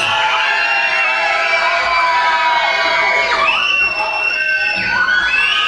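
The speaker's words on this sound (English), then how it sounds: "Come on, girls, give us a scream in." A crowd of girls at a 2006 concert in Hendra, Wales, screams together in a loud, sustained, high-pitched roar, with shrieks swelling and wavering for several seconds without pause.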